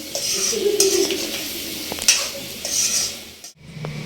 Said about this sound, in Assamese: আলুটো অকণমান অলপ তেলত ভাজিব দিম